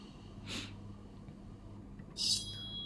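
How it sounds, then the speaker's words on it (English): Sleep breathing recorded close up but very faint: two soft, airy breaths, each a brief hiss, separated by about two seconds of low hum. "I want to show the sound sources. It's a sleep breathing."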